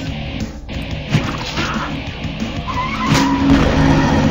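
A car in the video game Polar Bear Payback skids and squeals across the surface, engine noise and tire screech building louder toward the end, with a brief thud of impact mixed in.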